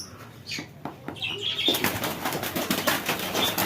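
A Lotan pigeon beats its wings in quick, close flapping bursts, starting with a few separate claps and then building into a sustained flurry of wingbeats, with no talk.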